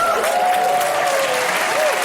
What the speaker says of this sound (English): Wow, thunderous applause